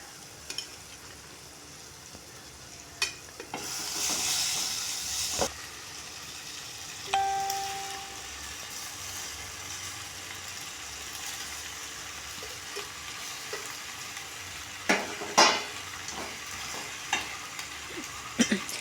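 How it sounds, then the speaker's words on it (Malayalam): Cooked pasta stirred and tossed with its sauce in a pan, giving soft scrapes and occasional utensil clinks over a faint, quiet sizzle. No one speaks. "ഇനി ഇത് നന്നായി ഒന്ന് മിക്സ് ചെയ്തെടുക്കുക"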